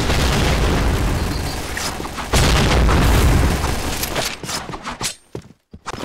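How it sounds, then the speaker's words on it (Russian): A grenade blast in the online shooter Point Blank: a loud, dense boom with rumbling debris that holds for several seconds, then breaks up into scattered bursts and fades out near the end. "Граната!"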